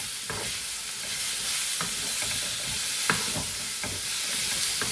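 Onions and spices for a Kerala-style chickpea masala frying in a pan as tomatoes go in, a steady close sizzle broken by repeated scraping stirs, with no talking.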